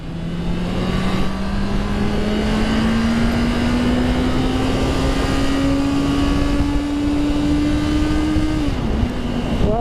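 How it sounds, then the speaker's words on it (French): A Honda CBR 650 R motorcycle accelerates hard in second gear, its engine note climbing steadily and loudly for several seconds before a quick drop as the revs fall near the end, heard close with no talk. "après moi le moteur il fait beaucoup de bruit"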